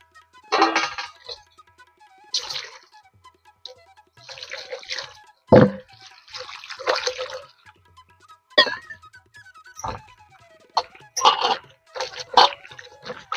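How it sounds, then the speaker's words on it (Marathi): Intermittent splashes and sloshing of water as freshly picked ghol (purslane) greens are rinsed and handled, with short bursts separated by quiet gaps. "आता भाजी स्वच्छ धुवून घ्यायची बघा पाण्याने आपल्या"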